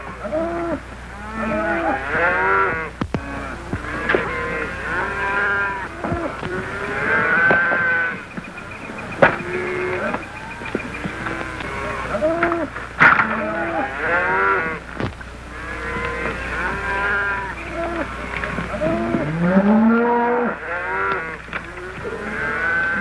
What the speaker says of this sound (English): Here comes the cattle.